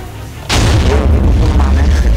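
A cannon fires in the video game Minecraft, a single loud, close boom that starts abruptly and is followed by a rumbling, crackling tail.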